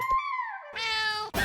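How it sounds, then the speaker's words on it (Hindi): A cat meows inside a godown, giving one long, drawn-out cry with a falling pitch followed by a second, rougher, more strained meow, close and clear. "तो बिल्ली की आवाज कहां से है?"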